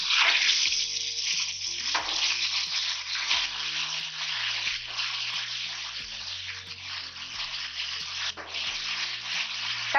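Tomatoes frying in hot oil for a sardine fish curry, a steady loud sizzle that runs throughout, with faint clicks and stirring under it.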